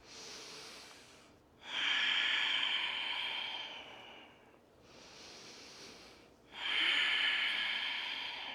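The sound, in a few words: deep breathing during shoulder rolls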